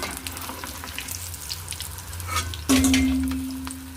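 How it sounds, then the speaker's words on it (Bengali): Soya chilli pakoras fry in hot oil with a steady low sizzle and occasional stirring scrapes, then a sustained tonal hum joins near the end. "আমি পকোড়াগুলো এইভাবে সবকটা ভেজে তুলে নেব"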